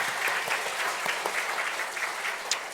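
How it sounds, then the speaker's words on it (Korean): Church congregation clapping in encouragement for members during a Sunday service, a steady, moderately quiet round of applause from a crowd with no voices over it. "박수를 한번 격려했으면 좋겠습니다"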